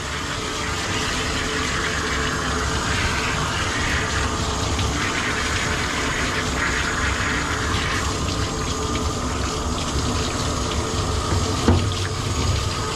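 Steady running water rinses soap off a severely matted Schnauzer, a constant close rush of spray with a faint pump hum underneath and a brief knock near the end, with no talking.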